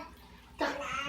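Hot wort runs off from a mash tun in a sudden splashing, gurgling pour that starts partway through and keeps flowing to the end.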